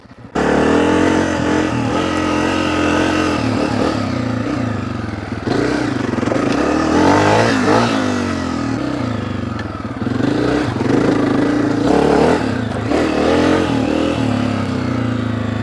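A 2023 Honda CRF 250F dual sport motorcycle being ridden off-road, its engine loud and close, rising and falling in revs with gear changes and brief throttle dips, alongside rattling and scraping from rough ground, and no voices.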